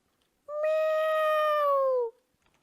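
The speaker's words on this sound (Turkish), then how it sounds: "Sen ne tatlı kedisin öyle." A cat in the Minecraft video game gives a single clear, drawn-out meow that falls slightly in pitch, loud and close against near silence.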